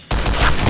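Close, loud burst of rapid gunfire from the Project Brutality mod for Brutal Doom, a dense sustained volley with no talk over it.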